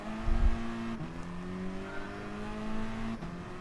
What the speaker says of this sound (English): This car does sound really cool.